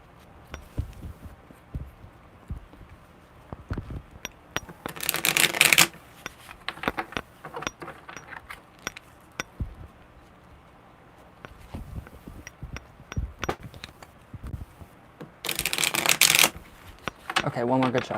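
Tarot cards are shuffled and riffled by hand in bursts, with two loud flurries of rapid flicking amid softer shuffling and taps, and a voice murmuring now and then.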